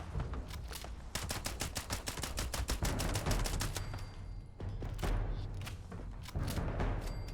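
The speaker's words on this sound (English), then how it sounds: "Just shoot at everything." Rapid video game gunfire, with long bursts of sharp, evenly spaced shots rattling like automatic weapons and brief pauses between volleys, loud and close with no speech.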